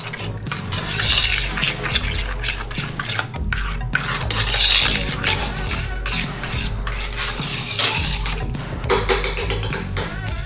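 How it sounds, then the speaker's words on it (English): Brisk, continuous whisking of a jerk marinade with lime juice and fresh green scallions, a metal whisk scraping and clattering against a bowl close up for several seconds, loud and without talk. "I'm gonna put a little bit of fresh green scallions and just whisk everything together"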